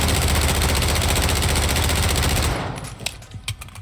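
Sustained automatic gunfire from a Warzone 2.0 loadout in the video game, a dense, loud, rapid stream of shots lasting over two seconds before cutting off, followed by a few scattered softer clicks and impacts.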